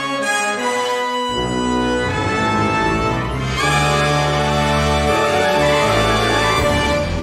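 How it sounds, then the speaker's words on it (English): MuseScore 4 playback using GM sound fonts, a sustained pitched phrase with a glissando and portamento sliding up to a high concert D, full and steady throughout before stopping abruptly at the end, no talk. "I have this glissando playing back the portamento playback, which works with the GM sound fonts."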